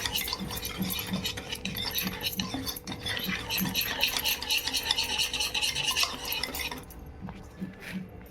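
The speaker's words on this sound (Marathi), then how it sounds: "मिक्स करून घ्यायचं" A spoon scrapes and clinks steadily through a bowl of thick potato bhaji batter, a close, continuous stirring that stops abruptly near the end.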